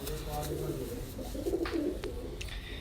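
Sialkoti flying pigeons coo in low, soft repeated murmurs, with people talking nearby over the birds.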